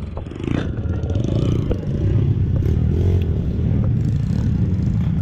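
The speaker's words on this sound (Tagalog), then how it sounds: "Dito wala na akong muffler, so talagang tunog barko" A Kawasaki KLX 150 trail motorcycle running without a muffler, a loud raw close-up engine roar with clattering mechanical noise, revving and holding steady throughout.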